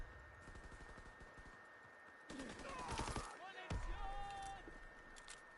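Video game gunfire from Call of Duty WW2, a set in World War II, bursts out loud in the middle of the clip, rapid shots with a sharp crack, while someone talks over the action.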